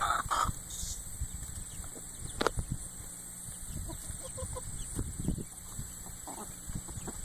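Chicks and full-grown hens cluck and peep softly in a farmyard flock, scattered low calls under light background noise with a few sharper bursts near the start.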